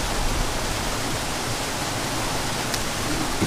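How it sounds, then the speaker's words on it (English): A river waterfall rushes in a steady, loud broadband roar that fills the whole stretch without letup, close to the listener, with no talking over it. "Right in the waterfall."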